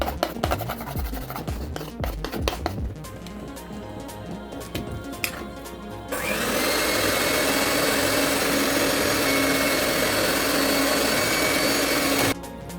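Electric mixer beating red velvet cake batter after milk is added, a steady loud whir that starts about halfway through after quieter clattering and handling sounds, then cuts off near the end.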